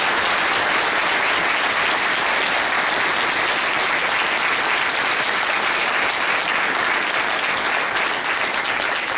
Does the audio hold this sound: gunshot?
no